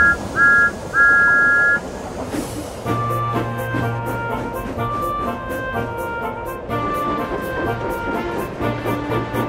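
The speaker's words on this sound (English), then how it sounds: "Once he was filled, Thomas whistled," Steam locomotive whistle, two short shrill toots at the start, followed by a rhythmic clanking run of the engine setting off, with repeated chuffs and a lower tone underneath.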